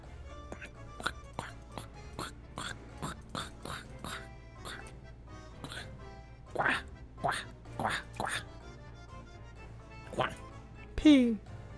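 A person repeatedly imitates a duck, voicing a string of nasal quacks in an uneven rhythm, with a louder, drawn-out quack near the end.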